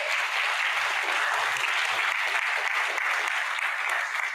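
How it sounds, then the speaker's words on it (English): A room full of people applauds in a dense, even wash of clapping at moderate distance, steady for several seconds without a break and with no voices rising above it. "So please give Equal Ground, Genesis, and Jackie another round of applause."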